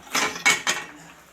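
Metal pan clattering down onto a kitchen stove while cooking prawn shami cutlets, three quick close knocks and scrapes within a second, then quiet.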